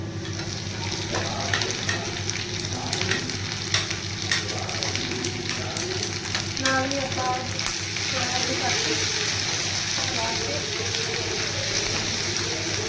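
Ginger and onion frying in a pan in a home kitchen, a continuous loud sizzle with scraping stirs, a brief tap-water trickle, and steady background hum throughout.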